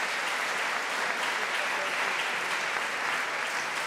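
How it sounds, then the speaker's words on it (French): Broad, steady applause from a large audience at a tribute evening honouring Elie Wiesel, a dense continuous wash of clapping that holds evenly throughout. "je voudrais qu'on les applaudisse"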